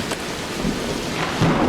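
Heavy rain and a rumbling thunderstorm in the zombie survival video game Vein, with a constant loud wash of rainfall and low thunder swelling near the end, with no voices.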